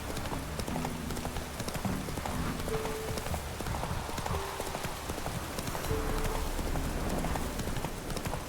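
Steady rain hisses across the landscape in the video game The Witcher 3, with a horse's clip-clop hoofbeats continuing on top, and no voices.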